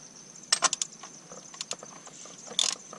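Metal ratcheting and clicking of a 36 mm wrench tightening the oil filter on a 2004 Ford F350 6.0 diesel, with a few quick bursts of clicks, close and fairly quiet, no talking.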